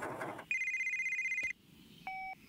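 A mobile phone rings in a Bob the Builder cartoon: one long electronic tone, then a shorter two-tone trill after a brief pause, clear and fairly close in a quiet room.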